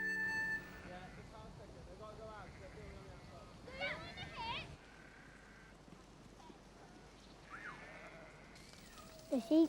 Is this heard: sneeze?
no